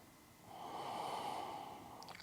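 One slow, deep exhaled breath during a seated yoga forward bend, soft and close, swelling then easing off, with no talk.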